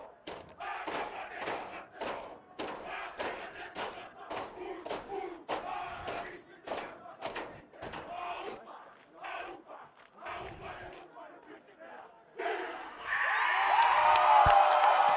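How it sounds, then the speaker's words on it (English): Snow College football team performing the Haka war chant at a game, rhythmic shouted chanting with stomps and slaps from a group, then a loud surge of crowd cheering at the end. "they're going to start off here with the Haka"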